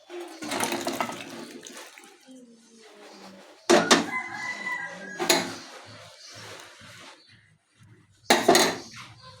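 A pot of soybean curry is lifted off a gas stove with loud close clanks and scrapes of metal, separated by quieter rustling and a brief watery swish.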